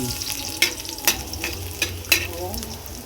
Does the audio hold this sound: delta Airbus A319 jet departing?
no